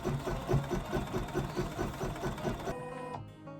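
A sewing machine stitches foundation stitches on a place mat, running in a steady rapid mechanical rhythm close by, then stopping abruptly near the end.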